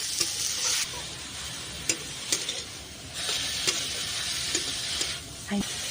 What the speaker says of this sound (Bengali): আমি এখন বিট আর গাজর দিয়ে দেবো দিয়ে ভালো করে এই মশলার সাথে নাড়াচাড়া করে নেব